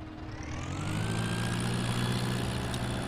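Tractor engine in Farming Simulator 17 straining as it hauls a plow across a spring field, a steady loud drone that holds its pitch throughout with no talk over it.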